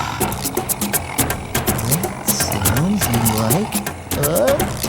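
A tiger growls and roars in a children's TV program, several throaty rising and falling snarls that come one after another, loud and close, with a voice and music mixed in beneath.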